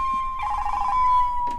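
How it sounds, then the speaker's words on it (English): A phone's electronic ringtone sounds in a room, a bright steady tone with a warbling burst in the middle, lasting just over a second before a brief soft noise at the end; nobody speaks. "that sounds like the phone"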